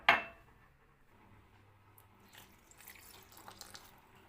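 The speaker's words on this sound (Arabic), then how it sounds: "نفضي عليها الميه، نجيب ميه" Tap water is poured into a saucepan, with a sharp splash at the start that fades into a quiet trickle and light clinking of the pan.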